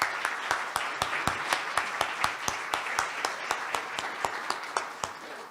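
Audience applause for conference sponsors, with sharp individual claps standing out in a loose rhythm over a softer background of clapping, moderately quiet.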